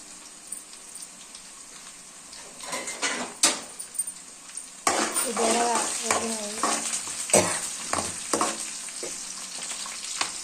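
Eggplant pieces fry in a pan. A quieter sizzle swells into loud, busy frying with repeated spatula scrapes and clatter against the pan.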